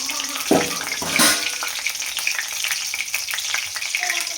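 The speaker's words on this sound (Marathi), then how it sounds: "आणि आता आपल्याला फोडणी घालायचं आहे सगळ्यात अगोदर तेजपत्ता हा धुवून घेतलाय आणि आता घालायचा आपल्याला खडे मसाले" Bay leaf and whole spices drop into hot oil in a kadhai for a tempering, bursting into loud crackles near the start and then settling into a steady frying sizzle with stirring.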